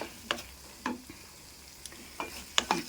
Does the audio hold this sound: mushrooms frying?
yes